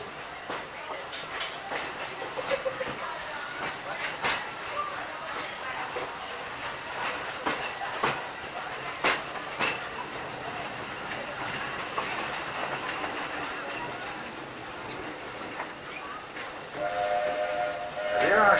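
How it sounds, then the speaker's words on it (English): The Magic Kingdom steam train runs steadily with continuous rumbling and rhythmic clatter, rising near the end as a whistle-like tone sounds. "this steam train is a little old-fashioned"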